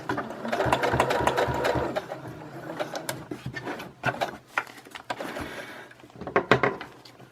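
A sewing machine stitches through a paper bag journal in quick mechanical bursts, running in short runs with brief pauses and clicks between them, close and clear with no talking.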